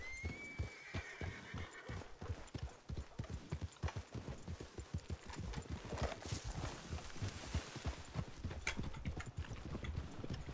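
Horse walking in the snow in Red Dead Redemption 2 (RedM roleplay), steady close clip-clop hoofbeats in an even rhythm, with a whinny near the start and faint snorts and movement around it.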